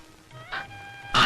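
A man imitates a cat's meow in a comedy scene, giving a short, nasal, rising mewing cry that ends in a louder burst.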